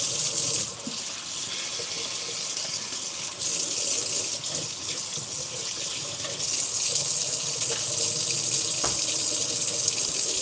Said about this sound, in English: Make sure it's all rinsed off with some